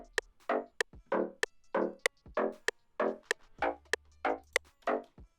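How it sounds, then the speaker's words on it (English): Short synth bass plucks in a chill siren jam remix, struck in a steady repeating rhythm of about a dozen clipped notes over five seconds, each with a quick attack and fast decay, loud and alone with no talking. "for this one I've also added a bass pluck"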